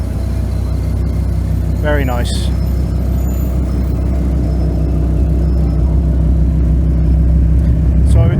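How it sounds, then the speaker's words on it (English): A Dodge Viper at the Redhill car cruise gives a loud, deep, continuous engine rumble close by, with a brief whine partway through and a voice speaking over it. "It's a very tasty Dodge Viper here."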